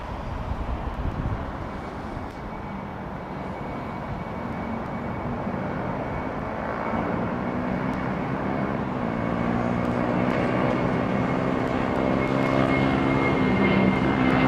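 An airplane departs Heathrow airport, a loud steady engine roar that builds slowly and holds throughout, with a broad rumbling drone and no talk.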